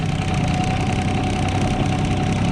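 A cheap used excavator's diesel engine idles and is throttled up, holding a loud, steady, close rumble with a constant drone for the whole stretch and no talk.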